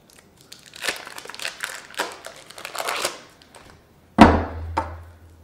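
Three sticks of butter being unwrapped, with crinkly paper packaging rustling and crumpling in close, irregular bursts, followed by a louder thump and a couple of sharp knocks near the end.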